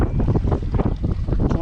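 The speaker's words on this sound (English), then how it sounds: "This wind does not make it easy." Strong gusting wind at Pyramid Lake buffets the microphone in a loud, continuous roar with uneven surges, no voices heard.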